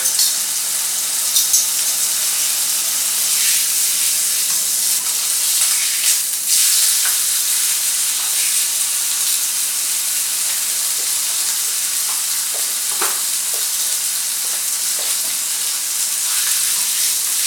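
Meat frying in a pan gives off a steady, close sizzle with a bright hissing crackle that runs unbroken throughout, and no one speaks.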